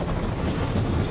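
A helicopter in Splinter Cell: Chaos Theory gives off a dense, loud, steady whir and rumble, heard briefly and alone.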